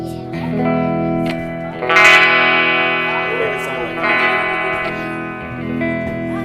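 A sustained electric guitar chord rings out heavily processed with effects, its tone shifting and swelling with reverb and chorus-like shimmer.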